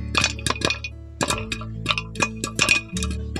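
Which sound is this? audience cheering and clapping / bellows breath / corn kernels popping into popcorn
corn kernels popping into popcorn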